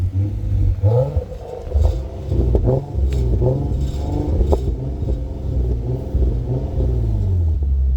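An Infiniti Q50S 3.7 V6 engine revs hard and holds high, bouncing against the rev limiter with rapid stuttering cuts, loud and close, with mechanical rumble throughout.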